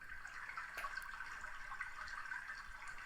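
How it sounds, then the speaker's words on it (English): A soft, steady rush of flowing water plays as the waterfall effect from a Lego Gringotts light and sound kit, faint and continuous with a few small splashy ticks. "And you can hear some water flowing out there."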